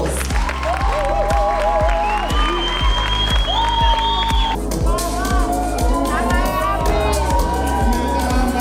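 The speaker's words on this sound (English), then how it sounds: "can you give him a big round of applause?" An audience at a training event claps and cheers loudly and close, with dense applause, whoops and crowd babble filling the whole stretch without letting up.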